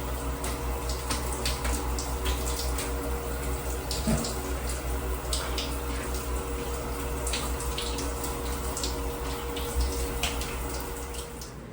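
A hotel shower runs steadily, a continuous spray of water with faint splashes and clinks over a low hum, fading slightly at the end.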